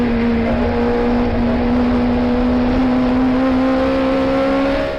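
A racing car engine at Brands Hatch drones loud and close in a steady sustained tone with a slowly rising pitch and no break, recorded onboard.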